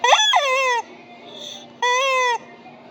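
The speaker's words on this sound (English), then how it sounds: "Oh, and chickens." Two loud, drawn-out squawking calls from a chicken, close by, separated by a short quiet gap with faint background noise, in an American grocery store.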